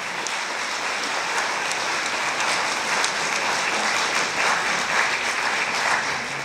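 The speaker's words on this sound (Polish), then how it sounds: "Wielkie brawa dla młodych nieprzeciętnych z Trójki." Dense, sustained applause from a large audience fills a gala celebrating young achievers in Mielec, steady and loud throughout with no voices on top.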